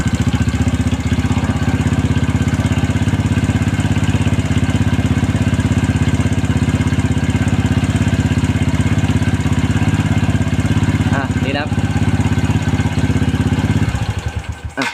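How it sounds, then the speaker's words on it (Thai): A motorcycle engine fitted with an N-Pro carburetor runs during carb tuning, a loud, steady close-up drone held for the whole stretch, with a slight change near the end as the throttle eases off. "เราเราหมุนคันเร่งให้มันเร่งดูก่อนนะ"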